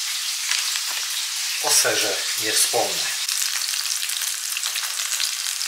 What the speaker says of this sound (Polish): Kiełbaska smażona do pizzy będzie.